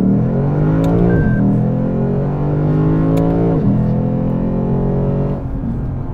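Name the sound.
Lexus RC F engine during gear shifts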